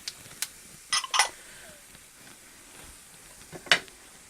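Mustard seeds, cumin and urad dal crackling in hot oil in a pan, a few sharp pops and short sizzling bursts spaced out over a quiet background.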